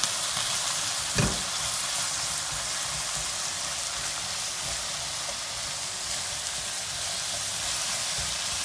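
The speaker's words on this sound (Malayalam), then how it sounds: "എല്ലാം കൂടെ ഒന്ന് ചെറിയ തീയിൽ ഒന്ന് മിക്സ് ചെയ്ത് കൊടുക്കുക." A peri-peri marinade with ground pepper sizzles steadily in a pan over a low flame while being stirred, giving a continuous dense frying hiss with a brief knock of the spoon early on.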